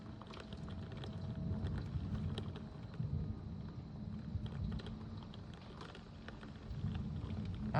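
Pea-size hail in a Chicago storm, a dense steady patter of small stones with scattered sharp ticks over a low rumble of wind and rain.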